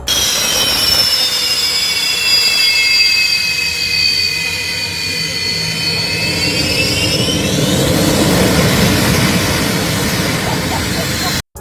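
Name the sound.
Boeing 747 jet engine blast blowing away ground crew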